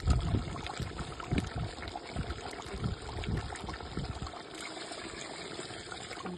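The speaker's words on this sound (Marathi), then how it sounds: "आता आपण ताटावर जे पाणी ठेवलं होतं ना ते चांगलं गरम झालंय ह्याच्यामध्ये ओतून घेऊया" Hot water poured into a chicken pot cooked over a wood-fired stove outdoors, a close gurgling splash and trickle that tapers off into quieter bubbling.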